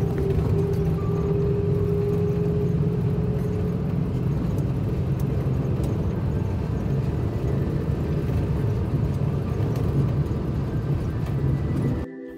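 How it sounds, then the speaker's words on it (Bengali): Engine noise inside a moving Hino RN8J bus on a village road: a loud, steady low rumble and drone with road roar, continuous throughout before cutting off abruptly at the very end, with no talk. "বাসের ভিতরে ইঞ্জিনের নয়েজ কীরকম ছিল চলুন একটু শুনে আসি।"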